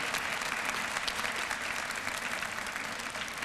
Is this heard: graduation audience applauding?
yes